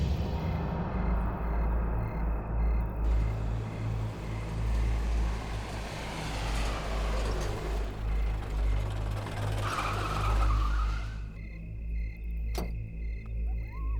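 A car engine runs loudly and steadily close by, its rumble swelling with a rising whine before cutting off abruptly near the end, as an overheated vehicle stalls and breaks down on the road.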